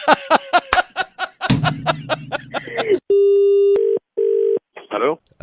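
An outgoing telephone call: a quick run of loud keypad dialing beeps and some buzzing, then two long, steady ringback tones with short gaps, near and clear.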